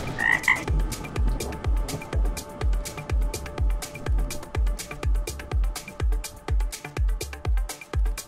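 A toad sound effect croaks in a rapid, steady pulsing rhythm, loud and close, running continuously with a brief higher chirp at the start.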